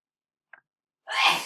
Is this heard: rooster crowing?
no